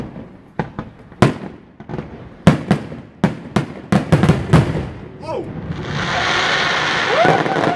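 Fireworks at a Canada Day celebration in Chestermere in 2016: a series of loud, sharp bangs and crackles at irregular intervals. A few whistling rockets rise near the end, and crowd noise is faintly heard between blasts.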